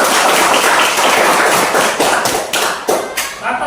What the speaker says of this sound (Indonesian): Tepuk tangan dulu tuh.